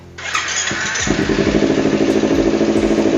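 A 2017 Kawasaki Ninja 250 motorcycle engine cranks, catches and starts, then settles into a steady, close idle with a rhythmic throb.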